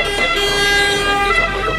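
A passing fire engine's siren wails steadily nearby over the low rumble of road traffic in Trento, loud and continuous, with a horn-like tone throughout.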